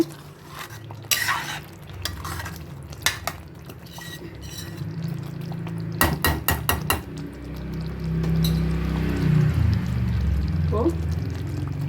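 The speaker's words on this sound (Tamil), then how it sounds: "இப்போ நம்ம இந்த உருளையை போட்டுடலாம்" Bottle gourd kola balls dropped one by one into a pan of gravy, a quick run of soft plops and clinks against the metal pan, then a steady bubbling simmer, close by, with a voice talking over it.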